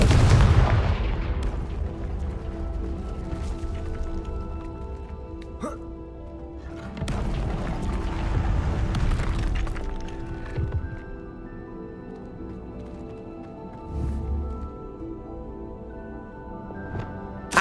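Confringo explosive spell cast in Hogwarts Legacy, part of a rapid chain of spell effects: booming blasts and bursts erupt one after another over a humming background, the biggest hit at the start and another mid-way.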